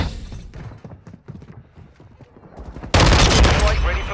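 Call of Duty gunfire cuts in abruptly as a loud, dense burst of rapid shots after a stretch of quieter rumble and movement, filling the last second of the clip.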